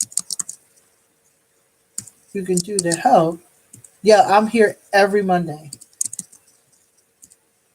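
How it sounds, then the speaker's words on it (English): Typing on a computer keyboard comes through as light, scattered clicks and taps under a person's close speech. "hold on for just 1 second, because I'm typing right now. I cannot do two things at once."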